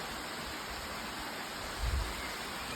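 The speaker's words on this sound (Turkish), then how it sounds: "Kırcaali yolunda Potkova köyünde güzel bir şelale." Steady broadband rush of a waterfall near Potkova village on the Kardzhali road in Bulgaria, constant and enveloping, with a brief low thump near the end.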